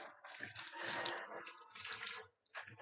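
Water poured or dropped into a part of an Epson L3110 printer during a repair: close, splashy trickling bursts in several pulses with a brief gap near the end and no talk.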